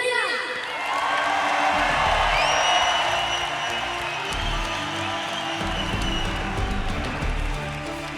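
Gala audience cheering and applauding Francesco "Pecco" Bagnaia, the 2023 MotoGP World Champion riding for Ducati, in Valencia: a loud, sustained wash of clapping, whoops and shouts that holds steady for several seconds.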